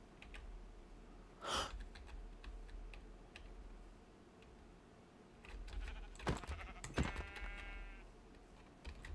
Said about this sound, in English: Some sheep.